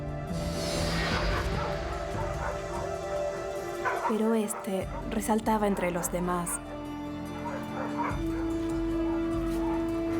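Barking and whimpering from an energetic dog adopted as a puppy from an animal shelter, a few yips and whines that sit under steady narration throughout.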